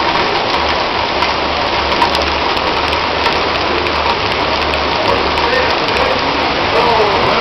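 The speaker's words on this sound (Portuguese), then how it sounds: "Eu dou 7 segundos pra essa chuva parar." Heavy rain pours down steadily at an outdoor concert, a dense continuous hiss of drops hitting the ground that stays loud and unbroken throughout, with a low rumbling undertone beneath.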